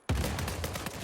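AK-47 gunfire in Uncharted 4 multiplayer, a loud, rapid automatic burst of closely spaced shots starting abruptly and continuing throughout.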